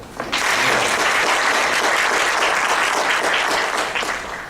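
A lecture-hall audience at a Korean university breaks into loud, sustained applause that starts abruptly and holds at full strength for several seconds, with no talking.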